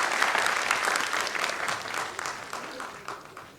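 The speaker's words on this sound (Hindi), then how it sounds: "और एक बार जोरदार तालियां आप सबके लिए" An audience claps loudly and steadily in an auditorium at a college event, a dense burst of applause that slowly fades over a few seconds.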